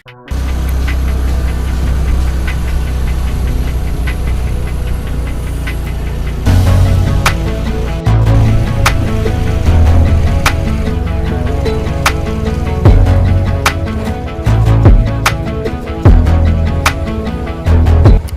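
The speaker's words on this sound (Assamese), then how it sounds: "বাইক ষ্টাৰ্ট কৰোঁ" A motorbike engine starts and runs steadily with a low rumbling drone, rising and shifting as it pulls away and rides along a road, with sharp clicks and knocks over the engine noise.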